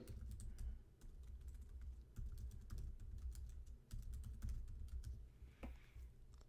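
Rapid, quiet clicking of keys on a computer keyboard as a password is typed, a dense run of soft taps with brief gaps, heard alone at low level.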